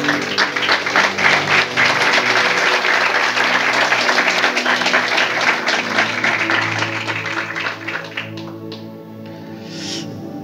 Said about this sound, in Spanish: Y ahora da un aplauso a Dios.